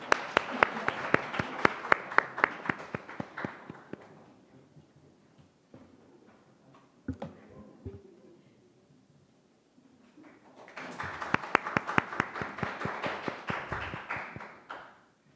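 Audience at a Korean youth speech contest gives a burst of crisp, rhythmic clapping that fades out, leaves a quiet pause with a few stray taps, then rises again into a second round of clapping.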